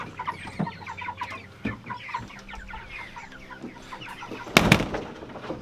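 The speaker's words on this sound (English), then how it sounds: "this is what 39 chickens look like" Chickens from a flock of 39 cluck and murmur close by in a busy, irregular chatter, with one loud squawk near the end and no talk.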